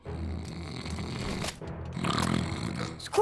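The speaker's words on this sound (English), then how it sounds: "we need to get Sparkie out of the room before his snoring wakes Trollee up" A sleeping cartoon dragon snores in long, rasping rumbles, loud and close, with a brief pause before the next deep snorting breath and a sharp noise at the very end.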